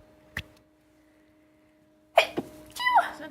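A single sharp sneeze bursts out close by during a tabletop wargame session, followed by brief voices and movement noise after a quiet stretch.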